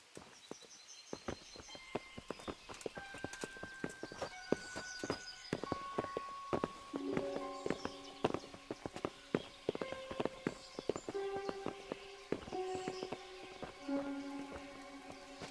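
Horses in Kingdom Come: Deliverance, steady clip-clop of hooves on hard ground with overlapping steps and occasional bright game tones, fairly faint, continuing alone without speech.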